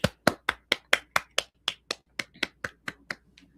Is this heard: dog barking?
no